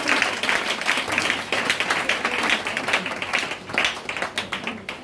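A church congregation claps and applauds together during a service, a dense continuous patter of many hands close by that rises and falls slightly over several seconds.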